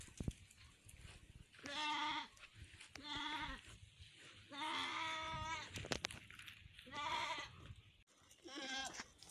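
Goats on a backyard goat farm bleat repeatedly, several loud, wavering calls from nearby animals spaced a second or two apart, with quiet farm background between them.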